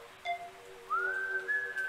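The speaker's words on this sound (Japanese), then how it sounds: "またこの口笛か。" A killer whistles a slow, eerie tune in the rainy-day horror game Rainman, with a few short rising notes followed by a longer sustained melodic line, clear and alone over a low hum.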